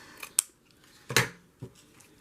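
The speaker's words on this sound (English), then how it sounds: "just trim it off" Scissors snip through the edge of a handmade beach journal cover in a few sharp, close cuts separated by short pauses, in a quiet room without talk.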